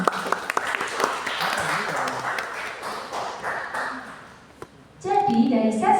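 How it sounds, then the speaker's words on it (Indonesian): An audience at an Indonesian talk gives a brief round of clapping for the presenter Pak Boni, moderate and fading, followed by voices starting up at the end. "Mungkin bisa nih kita beri tepuk tangan sekali lagi untuk Pak Boni."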